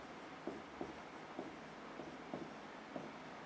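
Pen writing on paper as accounting entries are filled in, faint soft strokes with light periodic taps, close and quiet with no voices.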